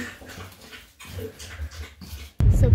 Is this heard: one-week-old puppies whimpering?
yes